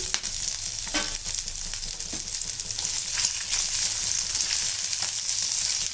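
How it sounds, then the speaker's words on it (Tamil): A medium onion with cinnamon, cloves and fennel seeds sautéing in hot oil for Chettinad chicken kuzhambu, a steady close sizzle with occasional scrapes and stirring clatter. "இது வதங்கட்டும் இதில் நம்ம சோம்பு பட்டை லவங்கம் வெங்காயம் ஒரு மீடியம் சைஸ் போட்டிருக்கோம்"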